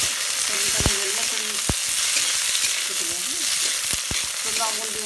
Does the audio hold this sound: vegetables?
yes